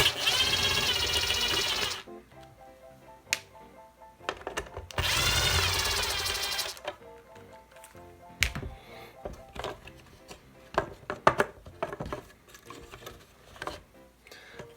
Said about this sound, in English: So let's unscrew this.